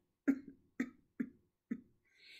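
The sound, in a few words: cough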